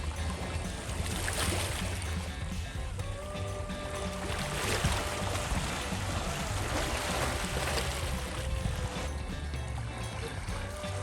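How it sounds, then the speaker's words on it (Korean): Waves wash in and out over the smooth pebbles of a beach on Yokjido island, a soft, continuous watery rush with faint distant tones beneath, no voices. "파도와 함께 물이 들어왔다 나갈 때 나는 물소리가 마음을 편안하게 해주는 곳입니다"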